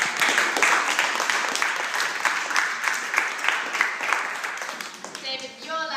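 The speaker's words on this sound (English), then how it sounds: "Give him a round of applause." An audience gives a round of applause, a dense burst of clapping lasting several seconds that thins toward the end.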